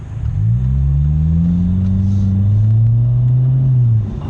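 A Jaguar XE fitted with two new custom hand-built exhaust back boxes revs up close by, one long, deep rising and falling engine pull that holds steady for several seconds before dropping off.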